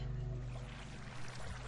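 Flowing water in the video game Minecraft gives a steady, close rushing and pouring wash with no pauses, heard alone without speech.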